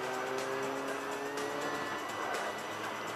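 Mazda Roadster race cars (NA6, NA8, NC and NB classes, sixteen in all) roll off on a formation lap at a JMRC Tohoku Roadster Cup circuit event, giving a steady blend of engine drone and revs with faint tyre noise.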